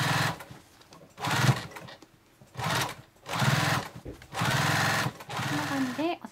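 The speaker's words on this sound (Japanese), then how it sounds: "この周りを一周押さえのミシンをかけていきます。" Sewing machine topstitching around the edge of a handmade fabric pochette, running in several bursts of whirring stitching separated by short pauses, with a voice speaking at times.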